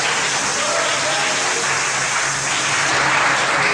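Church congregation applauding during a worship service, a dense, loud, continuous wash of clapping from many hands, with voices mixed in underneath.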